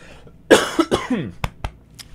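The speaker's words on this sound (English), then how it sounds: "Excuse me for coughing in your faces or ears or whatever that was." A few sharp, close coughs in quick succession, followed by a couple of short throat-clearing bursts.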